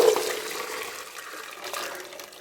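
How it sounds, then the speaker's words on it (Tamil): Water from pressure-cooked peanuts being drained off, a steady broadband pouring and splashing that begins strongest and gradually tapers as the flow continues, close up with no voices. "இப்போ தண்ணியை வடிச்சிடலாம்."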